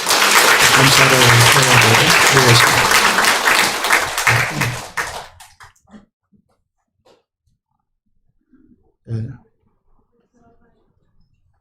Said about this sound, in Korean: 다시 한번 큰 박수로 감사를